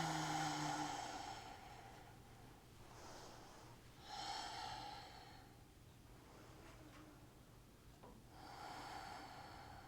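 Slow, audible breaths during a yoga forward fold, soft nasal inhales and exhales spaced a few seconds apart, close and quiet over a low background hum.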